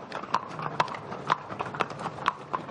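Horse hooves clip-clopping on a hard town surface at a steady walking pace during a transhumance, several distinct hoofbeats, fairly close.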